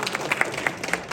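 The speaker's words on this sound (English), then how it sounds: "Better round of applause, please." Audience applause at an election results event, a short burst of scattered clapping from a crowd, moderately loud and steady throughout.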